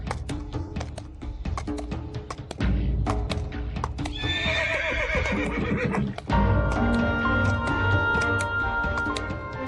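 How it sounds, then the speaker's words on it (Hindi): A horse gallops with steady clip-clop hoofbeats and gives a loud, clear neigh partway through, the hooves growing heavier and closer toward the end. "घोड़ा चलाओगे?"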